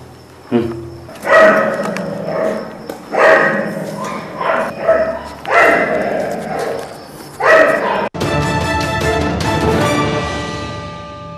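Several dogs bark and yip in short repeated bursts at close range, rescued dogs that had been thrown into a well in a sack, with a person speaking among them.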